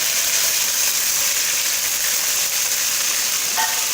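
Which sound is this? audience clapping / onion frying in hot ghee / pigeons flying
onion frying in hot ghee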